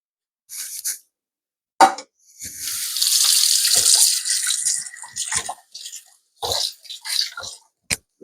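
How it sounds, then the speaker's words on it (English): Running kitchen sink tap water rinsing something while making an omelet breakfast, a few seconds of steady flow bracketed by short splashes, clatters and handling noises nearby. "let me rinse this off"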